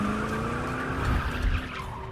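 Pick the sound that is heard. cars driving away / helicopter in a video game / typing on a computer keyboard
cars driving away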